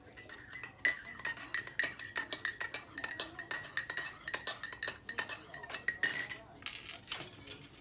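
A metal spoon clinks repeatedly against a cup while stirring coffee with creamer, quick irregular taps close by, with faint kitchen handling in between.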